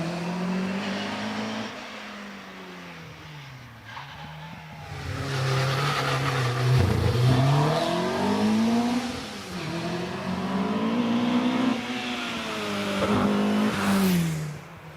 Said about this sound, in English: That car is on racing slicks. It is not road legal. It is built strictly for racing up hills.